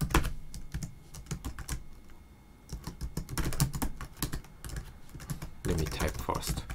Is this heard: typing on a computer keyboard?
yes